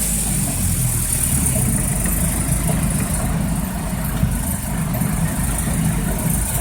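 A 1980 Land Rover 109 truck engine pulls steadily in second gear, a continuous low droning rumble with road and cabin noise, close and fairly loud, no talking.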